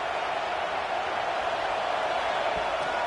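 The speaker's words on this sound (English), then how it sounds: "Decibels rising as the crowd gets behind this defense on 3rd down." Steady roar of a college football stadium crowd at an LSU versus Texas A&M game, building behind the defense on third down; a dense, continuous wash of cheering and noise with no distinct breaks.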